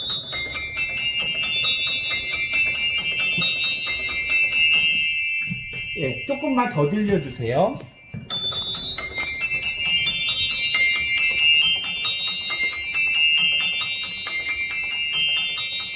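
Zimbelstern percussion stop on a pipe organ, with small bells on rotating arms ringing in a bright, continuous tinkling cascade. Brief speech breaks in midway as the bells pause, then the jingling resumes loud and steady.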